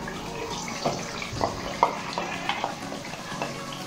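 Yogurt goes into fried chicken biryani masala in a pan and is stirred, giving wet sizzling, scraping and splashing with irregular stirring strokes, close and fairly loud with no talk.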